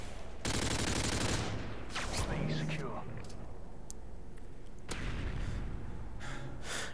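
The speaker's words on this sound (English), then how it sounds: "Just trying to shoot people." Rapid bursts of automatic gunfire from an M4A1 in Modern Warfare 2, playing Domination on the Derail map. The shots are loud and close, coming in clustered volleys with short pauses and some breathy voice sounds between them.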